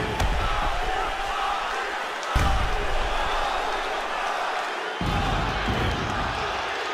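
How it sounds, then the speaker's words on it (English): Arena crowd in the UFC 4 video game cheering and roaring at the end of a round, a steady dense wash of noise with a couple of swells, loud and continuous throughout. "So the crowd voicing its appreciation after that round."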